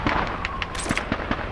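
Rifle shots crack out on a shooting range in Call of Duty 2, several sharp reports spaced about every fifth of a second over a steady din of background game noise, fairly loud and close.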